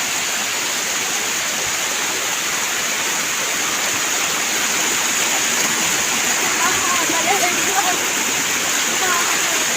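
Waterfall at Amboli Ghat roaring steadily with dense, continuous splashing close by, loud and unbroken throughout.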